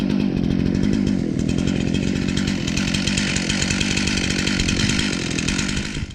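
A chainsaw cuts through wood, running loud and close without pause, its engine buzz steady and raspy throughout, easing off only at the very end.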